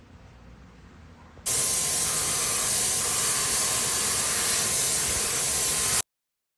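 A spray gun applies a tinted top coat of paint in one loud, continuous hiss lasting several seconds before cutting off abruptly; a quieter background hush comes before it.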